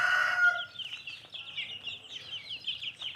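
In a poultry yard with grown roosters and chicks, a brief loud crow-like call opens, followed by a run of faint, rapid high peeps and soft clucks.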